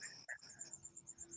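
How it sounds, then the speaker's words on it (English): Crickets chirp outdoors in a faint, steady stream of evenly spaced pulses, with a brief murmur partway through. "I hear crickets everywhere."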